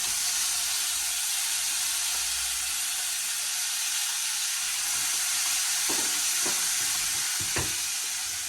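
Green chili paste with curry leaves and cumin fries in a pan, giving a loud, steady hiss of sizzling oil that fills the scene, with a few soft stirring knocks near the end.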